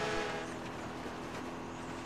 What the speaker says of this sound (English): That's not a road. That's a train.